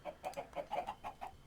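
Chickens in the Minecraft video game cluck in a quick, bouncy run of about eight short clucks, quiet and alone.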